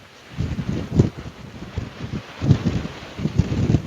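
Strong typhoon wind gusts at an exposed shore fishing spot, a rough, pulsing roar buffeting the microphone in repeated surges.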